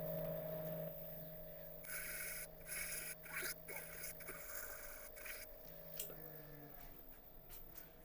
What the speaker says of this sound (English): I'll just go on with a bit of 240 sandpaper just to open up a small fraction